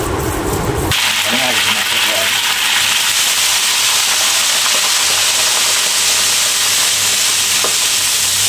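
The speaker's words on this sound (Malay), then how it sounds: "Lepas tu kita goreng." Loud, continuous sizzling of Spanish mackerel frying in hot oil in a wok, with faint clanks and a low voice murmuring underneath.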